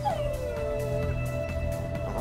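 A dog howls in the video game A Plague Tale: Innocence, a long falling wail over a steady low game soundscape, with no speech.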